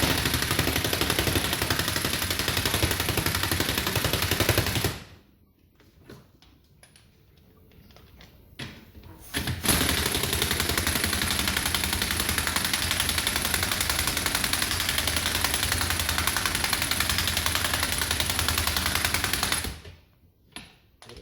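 An air compressor runs loud and steady during front suspension repair on a Corsa D. It cuts out for about four seconds partway through, then resumes and runs on until near the end.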